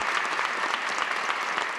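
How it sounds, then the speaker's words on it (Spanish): Hundreds of faithful applaud inside a cathedral, many hands clapping in a continuous, even patter that stays moderately loud and steady, with no speech over it. "los cientos de fieles la recibieron entre aplausos"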